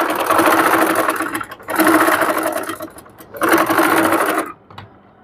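A sewing machine stitches fabric corners for rope piping in three loud, whirring runs separated by brief pauses, before falling quiet at the end.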